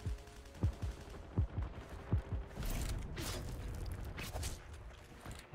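Gunfire in the Heroes & Generals video game, several sharp single shots early on, then a denser burst of overlapping firing and rattling reports, moderately loud with no talk.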